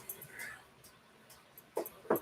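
Dogs whimpering and whining in short, high-pitched bursts, a few faint cries early and sharper ones near the end, close by.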